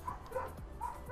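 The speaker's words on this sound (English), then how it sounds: "My dogs are barking." Several dogs bark and yip in quick, irregular bursts, close and fairly loud, running straight through without any voices.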